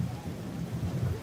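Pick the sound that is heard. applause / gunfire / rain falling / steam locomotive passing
rain falling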